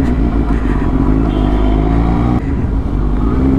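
Engine noise from a motorcycle riding on the road, steady and loud, with a slight dip and a shift in tone partway through, close to the rider.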